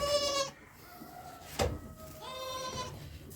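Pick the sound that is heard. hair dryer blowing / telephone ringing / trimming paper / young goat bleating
young goat bleating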